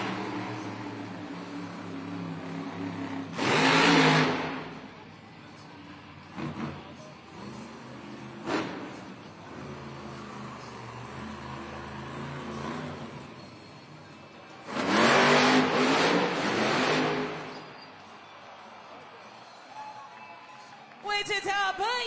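Dragon monster truck doing back-to-back two-wheel tricks at a Monster Jam arena event in Wichita: loud engine revs surge in two main bursts with shorter blips between, under an announcer's commentary and crowd noise.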